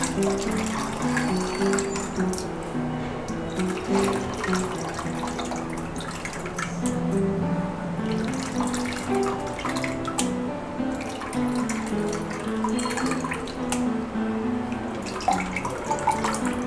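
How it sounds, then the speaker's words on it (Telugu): Tamarind water is poured into mashed toor dal for a drumstick dal rasam, giving a steady running, trickling flow with a few splashes throughout, close by and moderately loud, with no talking. "ఇలా మెత్తగా రుబ్బుకున్న కందిపప్పులోకి చింతపులుసు పోసుకోవాలండి."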